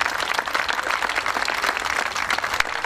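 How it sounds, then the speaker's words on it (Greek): An audience at a live performance applauds steadily, a dense wash of many clapping hands, fairly near and even throughout. "ένα χειροκρότημα"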